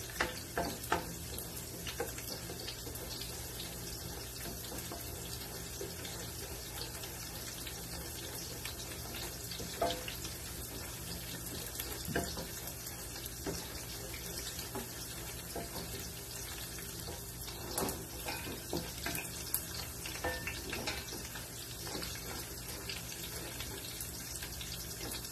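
Garlic frying in a pan until browned, a steady soft sizzle with faint scattered crackles continuing throughout at a fairly low level, no talking.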